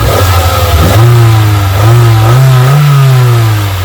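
An 18-year-old car's engine revs up and down several times in quick succession as its throttle cable is pulled by hand in the engine bay, loud and close, the pitch rising and falling with each blip.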